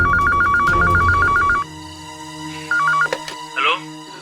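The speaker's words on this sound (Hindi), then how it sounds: "ये लीजिए, घंटी बज रही है।" A telephone rings with a rapid warbling trill, stops, then gives a shorter ring, followed by faint clicks and rustling.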